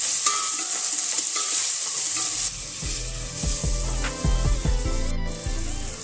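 Onion and capsicum sauté in a hot pan with an even, close sizzle. Rhythmic scraping and knocks from a stirring spoon run through it. No voices are heard.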